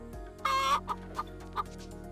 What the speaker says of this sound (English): In this instance, the chicken will tell us.